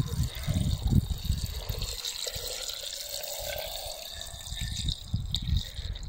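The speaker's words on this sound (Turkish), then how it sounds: "Şöyle 5 litrelik bir su açıyorum. Onun içerisine döküyoruz." Water from a 5-litre bottle poured into a glass jar that once held pickles, a steady gurgling stream with splashing, fairly faint and close, under low background rumble.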